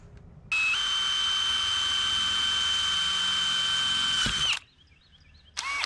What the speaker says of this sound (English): take my drill with a 3/8 drill bit and do a couple of relief holes